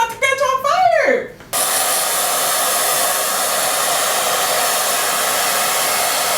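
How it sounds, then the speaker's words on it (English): A blow dryer runs loudly and steadily while drying a lace wig, its constant whoosh starting abruptly after a brief spoken moment and continuing unbroken. "Let me go get my other blow dryer and throw this one away."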